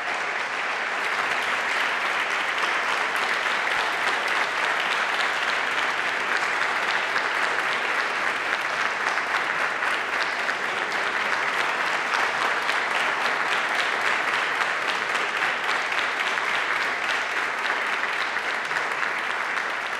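Sustained, dense audience applause at a formal session honoring Tiro de Guerra marksmen in Jacareí, continuous and loud throughout with no talking.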